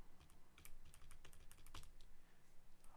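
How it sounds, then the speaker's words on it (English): Keys on a computer keyboard are tapped in a quick, uneven burst to enter text into a form. The clicks are light and close, with no voices over them. "I will type Professor in the first name"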